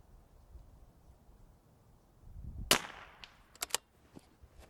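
A single sharp crack from a rimfire rifle fired from a kneeling position outdoors in snow, close and loud after a quiet lead-in, followed by a few fainter clicks and handling sounds.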